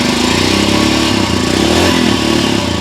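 A Royal Enfield Scram 411 motorcycle with a 411 cc single-cylinder engine runs close by, giving a loud, steady, bassy thump with an even pulsing beat.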